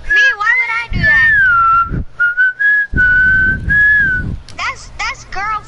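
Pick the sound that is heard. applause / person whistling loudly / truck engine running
person whistling loudly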